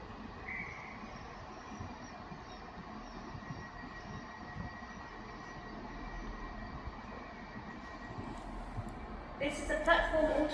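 A Class 66 diesel locomotive rumbles through Crewe station on the West Coast Main Line, a steady close roar of engine and wheels that grows louder with squealing and clatter toward the end.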